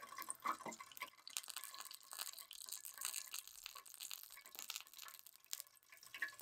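Fried food drains its oil in a pan, giving quiet, close, irregular drips and soft crackles that continue throughout without speech.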